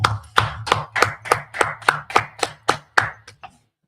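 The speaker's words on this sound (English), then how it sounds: "Today's class is Wednesday law class, so let's clap it up." A group claps in unison for a Wednesday law class, about a dozen sharp, evenly spaced claps in a steady rhythm that then stop, close and fairly loud.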